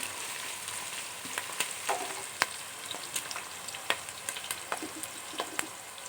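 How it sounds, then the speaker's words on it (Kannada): Onions fry in a pan for chicken biryani, a soft continuous sizzle broken by frequent small crackles and pops, close by but fairly quiet, with no voices. "ಈರುಳ್ಳಿ ಒಂದು ಸ್ವಲ್ಪ ಫ್ರೈ ಆಗಬೇಕು"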